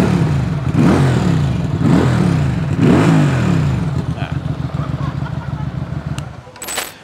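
A QJMotor SRV 250 AMT 250cc motorcycle with stock exhaust revs several times in rising and falling sweeps, close and loud, then settles into a rough idle with clattering.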